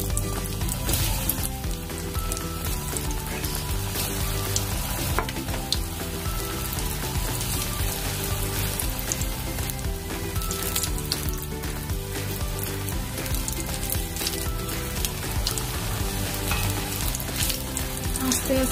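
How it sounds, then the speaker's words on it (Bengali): Raw banana kofta balls frying in hot oil over a medium flame, a dense, steady sizzle with continuous bubbling crackle that stays loud and even throughout, with no voices. "এবার কোপ্তাগুলো ছাড়া হচ্ছে।"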